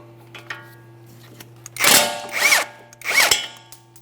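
A power tool with a 19mm socket spins off the lower ball joint nut on a 2014-2019 Toyota Corolla in three short, loud whirring bursts, with a steady hum underneath.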